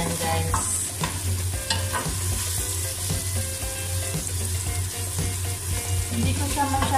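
Chicken gizzards and hearts fry in a hot pan with oil, giving a steady close sizzle and crackle throughout, with occasional stirring scrapes and clinks over it.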